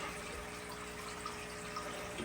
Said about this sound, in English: And it'll pump water out for a little while.